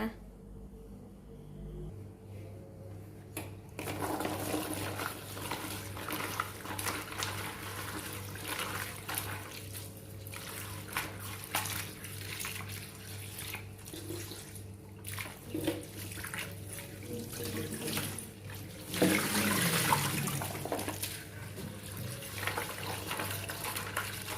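Tap water running steadily over green beans being washed in a sink, a continuous close splashing rush with sporadic clatter and a louder gush near the end.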